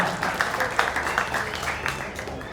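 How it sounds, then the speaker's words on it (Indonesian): Brief scattered clapping from an audience after a group performance at a Wonosobo performing-arts showcase, moderately loud and uneven with a few sharper claps standing out. "Tepuk tangan sih."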